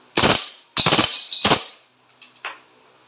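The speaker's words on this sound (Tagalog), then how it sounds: "okay, rapid firing." A Glock 18C replica pistol fires on full automatic in three sharp, loud bursts spaced close together, followed by fainter mechanical clicks.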